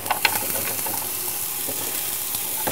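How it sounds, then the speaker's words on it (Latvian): Carrot pieces and onion fry in a pan for a vegetable stock base, giving a steady close sizzle with scattered crackles and a few scraping stirs. "Šādi apcepot burkāns un sīpols, tā ir arī izcila bāze tieši dārzeņu buļļonam"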